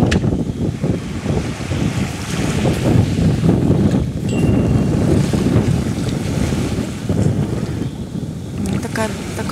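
Sea waves wash onto the beach of a Greek resort hotel, rising and falling under steady wind buffeting the microphone, with a faint voice at moments.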